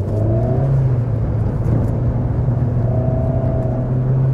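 A Salmson Val 3 car engine revs up under throttle during a driving test, a loud, steady, close-up drone with rising and falling pitch and no talk over it.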